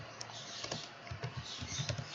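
Soft, quick keystrokes on a computer keyboard, a short run of light clicks close by but faint, with no talking.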